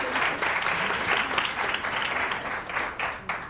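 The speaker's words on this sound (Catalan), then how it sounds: "Aplaudiment," Studio audience applause on a Catalan TV word quiz show, a steady, dense burst of clapping that stays loud and close throughout, with no speech on top.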